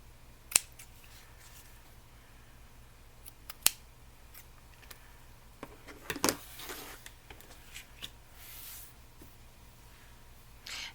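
Scissors trim fabric in a few quiet, separate snips, with a sharper cluster of cutting and handling noises midway, set against a faint, low room hum.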